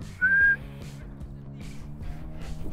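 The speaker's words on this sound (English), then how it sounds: "Whistle." A referee-style whistle is blown once, a loud steady tone lasting about a third of a second to start a football challenge, followed by continuous background music.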